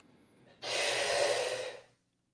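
Heavy breathing during a barbell lift, a single long, forceful inhale of about a second and a half taken while a heavy weight is lowered, close and alone.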